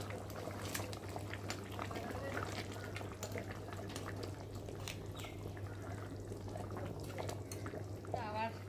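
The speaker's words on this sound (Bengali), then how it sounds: "দেখো ঝোলটা কত সুন্দর ফুটছে টকবক ফুটছে" Katla fish curry gravy with potatoes boiling in a pot, a soft, continuous bubbling and popping at low level with a steady background hum and scattered faint clinks.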